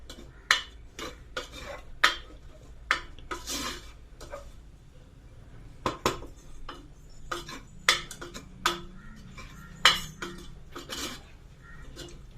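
Metal spoon scraping and clinking against a pan while chicken curry masala is stirred, sharp irregular knocks every second or so over a low background hiss, no talk.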